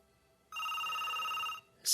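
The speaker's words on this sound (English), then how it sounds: "your phone is going off" A telephone bell rings in one steady electronic burst lasting about a second, loud and close, with the start of another ring cut off at the end.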